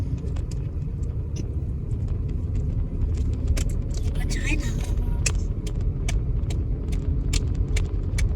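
A car drives along a road in Johannesburg with a continuous low engine and road rumble, light jangling ticks on top, and people talking inside.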